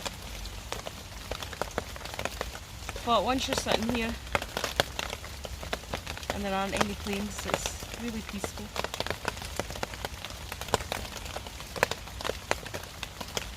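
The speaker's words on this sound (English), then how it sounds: "listening to the rain" Steady rain falling in the woods, patters and drips striking leaves and ground all the way through, close and even, with someone talking calmly over it.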